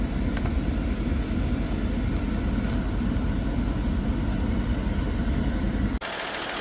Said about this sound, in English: Now you wanna make sure that you turn the fan on the full blast.